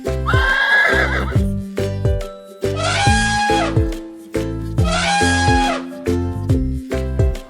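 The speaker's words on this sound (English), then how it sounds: "A horse neighs." A horse whinnies three times, each neigh loud and close with a shaky, high, quavering call, set over a bouncy musical backing.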